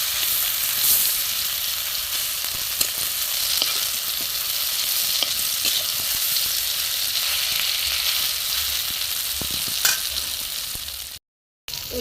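Spinach and small shrimp koftas frying in hot oil give a steady, loud sizzle with occasional soft clicks of a utensil turning them, cutting off briefly near the end.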